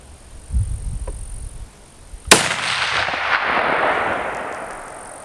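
A single loud rifle shot from a .308 Winchester handload, fired through a rifle wearing a Vortex Crossfire 2-7x32 scope at a 200-yard range. One sharp, close crack is followed by a long, fading outdoor echo.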